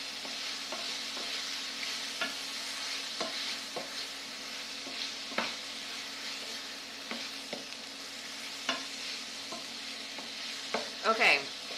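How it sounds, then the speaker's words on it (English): Onions and mushrooms are stirred as they brown in a frying pan, giving a soft steady sizzle broken by repeated scraping strokes of a utensil, with a few louder clacks near the end. "So now stir your onions and mushrooms. Mine are starting to brown a little bit."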